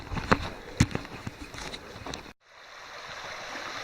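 A stream at a hiking trail crossing flows in a steady, soft wash after a cut, preceded by scattered footstep-like knocks and rustles nearby.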